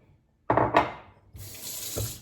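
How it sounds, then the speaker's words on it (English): A kitchen tap runs into a sink while dishes are being done, water splashing in bursts that start and stop, then a steadier hissing stream near the faucet with a light clink. "I'm about to do dishes real quick."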